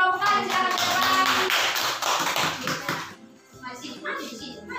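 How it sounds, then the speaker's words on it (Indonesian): Classroom audience gives a burst of applause for a student presentation group, dense clapping lasting a few seconds before fading as a voice begins speaking. "Kita kasih tepuk tangan dulu untuk kelompok laring."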